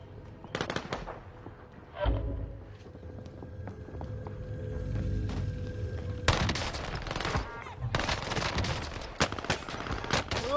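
Gunfire in a video game shootout comes as sharp bursts and rapid volleys, with quiet gaps at first and then dense clusters of shots near the end.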